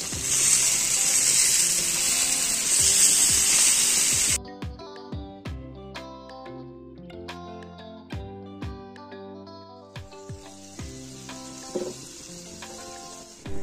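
Masala frying in a pan for Assam fish curry as tomatoes are added. A loud, steady sizzle cuts off and gives way to sparse metal clinks and scraping from stirring, then a softer hiss returns near the end.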